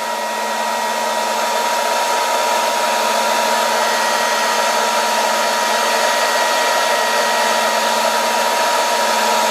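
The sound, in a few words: air blowing onto Eurorack module faceplate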